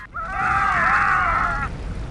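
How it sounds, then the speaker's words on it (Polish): Video game characters in Star Wars Jedi Knight II: Jedi Outcast, in a mining complex, let out a single drawn-out, wavering scream lasting about a second and a half. It sounds fairly close and clear, with no talk over it. "Co oni tam tak krzyczą?"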